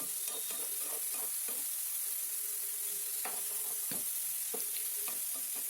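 Chopped brinjal and tomato fry in a pan over a medium flame for chutney with no added water, a steady soft sizzle broken by repeated stirring scrapes and taps, close and continuous, with no talking.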